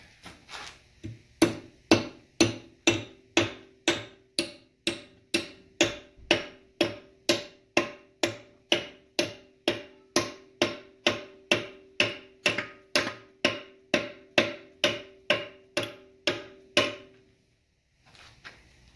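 Steady, evenly spaced hammer blows, about two per second, ringing sharply and close by during TH350 transmission disassembly, then stopping abruptly near the end.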